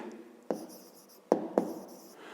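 A fifth-grade math exercise is written out by hand, giving faint, close pen scratching on paper with a few sharper taps of the pen.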